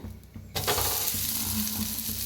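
Mixed-dal and potato dosa batter sizzles steadily in oil on a hot pan, a sudden burst of loud, continuous frying hiss that starts after a brief quieter moment and holds evenly to the end.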